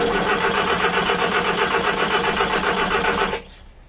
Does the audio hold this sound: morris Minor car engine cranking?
yes